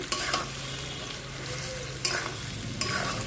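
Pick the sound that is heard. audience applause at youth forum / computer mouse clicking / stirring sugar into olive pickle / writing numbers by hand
stirring sugar into olive pickle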